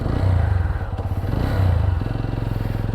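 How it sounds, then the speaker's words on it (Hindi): A TVS Apache RTR 200 4V motorcycle engine runs close by with a steady, low, even idle throb that continues for the full three seconds. "सिर्फ टच करके छोड़ दो, बाइक अपने आप स्टार्ट हो जाएगी।"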